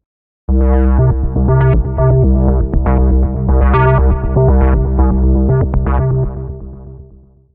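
A distorted synthesizer patch plays thick, buzzy chords with a pulsing, rhythmic effect that chops and shifts the tone, loud and steady before fading out.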